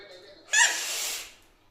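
A young girl imitates a crow's caw with one loud, harsh, breathy vocal burst lasting under a second, close to the listener, fading out afterward.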